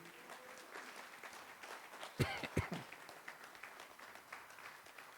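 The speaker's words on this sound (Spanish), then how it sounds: "Denle una ofrenda de palmas al Señor." A church congregation gives a short, fairly faint burst of applause, a few loud claps standing out amid a low wash of the crowd.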